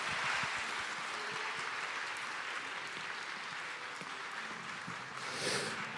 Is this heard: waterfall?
no